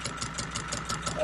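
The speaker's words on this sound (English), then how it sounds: "Okay, it's idling down pretty low." Engine idling low, near 800 RPM, on an old vehicle being tested to see if it will run; a steady, fairly loud rumble with a faint pulsing rhythm continues throughout the short stretch with no one talking over it.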